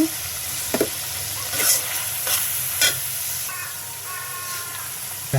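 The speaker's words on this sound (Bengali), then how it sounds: "আস্তে আস্তে আমরাগুলো কষানো হবে" Hog plums and prawns stir-fried in a pan, making a close, continuous sizzle broken up by a few soft scraping stirs.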